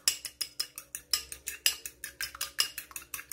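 Eggs and sugar are whisked briskly in a bowl with a utensil for banana bread, a steady run of sharp, close clinks and scrapes against the bowl in quick rhythm, with no talking.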